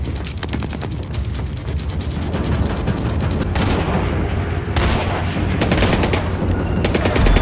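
Sustained heavy gunfire in the video game Blacklist, a dense, loud barrage of rapid automatic shots with booming impacts running continuously, with no talking.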